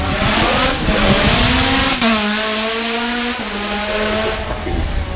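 Praga hybrid racing car launches hard off the start line at the Goodwood Festival of Speed, its engine revving high and loud with rising gear-change sweeps and a tire squeal, close by and continuous.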